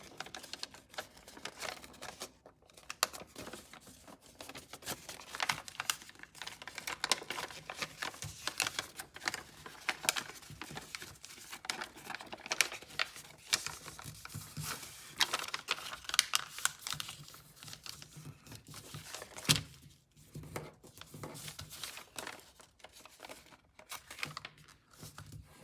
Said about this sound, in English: Now we're gonna open this up a bit and push along that crease we just made,